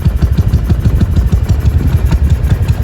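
A Honda Vario motorcycle with a 200 cc engine idles close by, a loud, steady low-pitched throb with rapid even pulses and light mechanical clatter.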